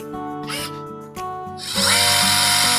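A 1/12 scale RC military jeep's electric motor whines steadily in its fast gear, a loud close-up drill-like buzz that climbs and grows harsher partway through, with no talking.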